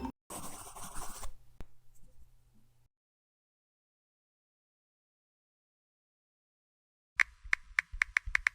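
A pen scratches briefly across paper, jotting down a phone number, followed by a low hum and a long silence before a quick run of sharp clicks.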